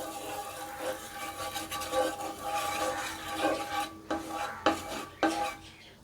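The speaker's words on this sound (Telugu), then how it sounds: "చూడండి, బటర్ ఇలా బాగా స్ప్రెడ్ చేసుకోవాలి." Butter being spread with a spoon across a hot dosa pan, giving soft rubbing and scraping strokes with a few sharper metallic scrapes toward the end, close and alone with no talk.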